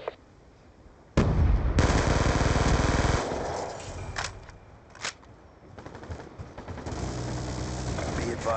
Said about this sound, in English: Sentry gun ready to deploy.